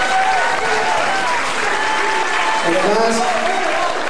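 Applause from the audience at a 2003 scouting playback show fills the clip continuously and fairly loudly, with someone talking over it.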